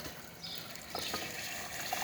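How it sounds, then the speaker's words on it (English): Water pumped through the group head of a La Pavoni espresso machine with no portafilter fitted, a steady close hiss and trickle of liquid lasting about two seconds with slight surges. "But we will just pump the water through the group head."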